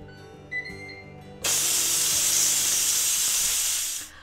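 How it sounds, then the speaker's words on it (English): A pressure cooker doing an immediate quick release of steam after a two-minute cook for smoked sausage and corn chowder: after a faint lead-in, a sudden loud, steady hiss bursts out and holds for nearly three seconds before cutting off. "We'll pressure cook for 2 minutes and then we will do an immediate release."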